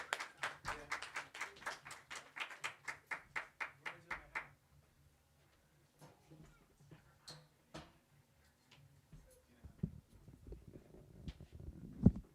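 Small audience at an open mic clapping, a rapid run of about twenty distinct claps that stops abruptly after a few seconds, followed by quiet room noise and faint shuffling.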